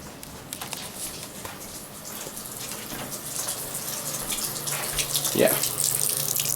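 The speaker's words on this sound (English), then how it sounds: "kind of a full stream of cold water" A bathroom tap runs a full stream of cold water in a steady splashing rush that grows slightly louder, with a brief word spoken over it.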